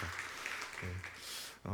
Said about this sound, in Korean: 우리 박수 한번 이렇게 서로에게 쳐주시기를 바랍니다